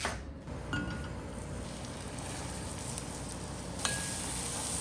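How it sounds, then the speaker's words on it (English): Minced shallot sautéing in a little butter, a quiet steady sizzle with a few light clinks of a utensil against the pan, close and without speech. "then we're gonna start sauteing it in a little bit of butter"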